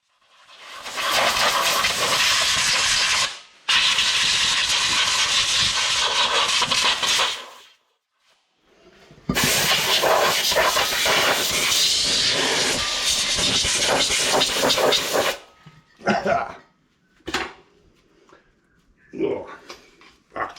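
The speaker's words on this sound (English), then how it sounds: "So I'll hook this compressor up and blow all this crap away." An air compressor nozzle blasts dirt off a Dodge Aspen brake drum in long loud hissing bursts separated by brief pauses, then several shorter puffs.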